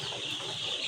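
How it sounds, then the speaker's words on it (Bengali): Brown cock chicken chicks, about fifteen days old, clucking and peeping in a poultry shed holding a thousand birds, a continuous soft chorus of many small birds at low, even volume. "এগুলো হলো ব্রাউন কক মুরগি"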